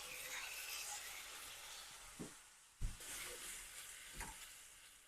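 Ginger garlic paste and chopped tomatoes cook in a pan with a constant soft sizzle, broken by three short scrapes or knocks of a spoon against the pan, fairly quiet and without speech.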